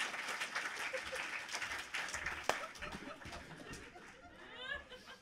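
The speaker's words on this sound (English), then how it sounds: "A big round of applause for Phil Plate, ladies and gentlemen" Applause after a comedy segment at a live geology-themed variety show, a dense wash of clapping from the audience with scattered laughter, one sharp louder clap near the middle, fading slightly toward the end.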